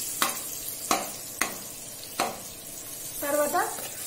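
Onions frying with turmeric in a pan as a home cook makes a chicken curry, with a steady sizzle under four sharp scraping strokes of the spoon. A brief squeal follows near the end.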